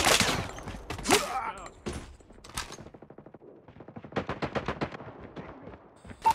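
Automated sentry gun fire in the Call of Duty Mobile video game, quick rattling bursts mixed with other gunshots and game callouts, ending in a fast rhythmic string of shots.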